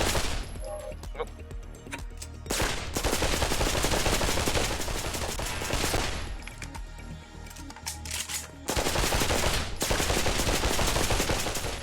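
Blind fire in the VR shooter Pavlov: long, dense bursts of rapid automatic gunfire, loud and close, broken by brief pauses between volleys, with a voice talking in places.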